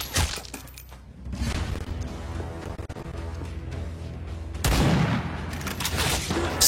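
Gunfire from a film shootout between naval special forces troops and hostage-takers at an oil refinery, with bursts and sharp cracks mixed with crashing impacts and a dense rush of action sound, growing louder near the end.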